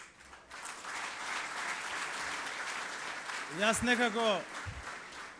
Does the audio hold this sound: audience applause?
yes